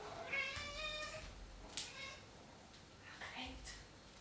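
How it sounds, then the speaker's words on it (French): A house cat meows several times in short, insistent calls close by, fairly quiet against a faint background. "je vais faire taire le chat parce que c'est pas possible"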